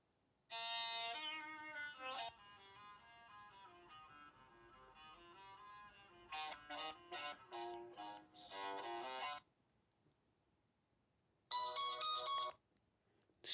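A Nokia 3120 or 1650 phone plays its ringtone through a small, echoey speaker: a bright, melodic electronic tune in several phrases, pausing briefly and then starting again.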